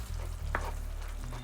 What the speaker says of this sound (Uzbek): Keyin buni yaxshi aralashtiramiz